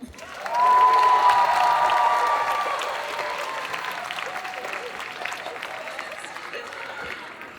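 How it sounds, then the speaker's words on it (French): A crowd at a cosplay contest during a Japan-themed convention breaks into loud applause and cheering that swells quickly, then slowly fades while the clapping continues. "on applaudit bien fort s'il vous plaît"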